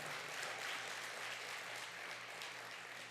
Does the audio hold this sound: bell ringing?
no